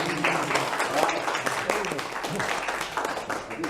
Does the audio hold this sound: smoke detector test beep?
no